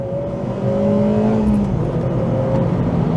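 A Honda Civic Type R engine revs hard close by, its pitch sliding as gears change, then settling into a loud, sustained whine.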